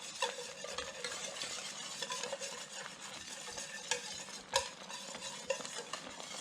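Sauce whisked in a hot pan for a chicken dish in Uganda, scraping browned fond from the bottom: steady scraping and clinking strokes over a soft sizzle, with a couple of sharper metal knocks.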